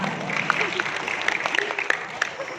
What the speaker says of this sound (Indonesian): Tepuk tangan dong yang grogi di belakang.